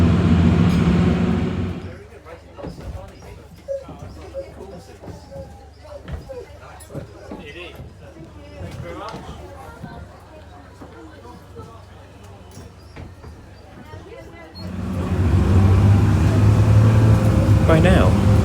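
A historic bus rolls into a town centre, its engine loud and droning at the start, fading under a long stretch of talking, then surging back up loud and close near the end.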